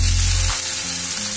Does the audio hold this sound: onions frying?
yes